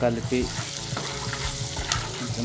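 Turmeric and garlic fry for a banana curry with a dense, close sizzle, broken by frequent scraping stirs and a bright metallic tap near the end.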